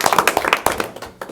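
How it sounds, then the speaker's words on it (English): A short burst of hand clapping from an audience at a school board meeting, several close, brisk claps fading quickly, with no voices. "a nice round of applause for them."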